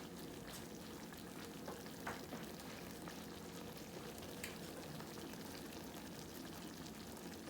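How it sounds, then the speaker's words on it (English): Burgers sizzling in a pan on the stove, a steady close frying hiss with faint pops and crackles running the whole time, no voices. "our burgers are cooking up really good"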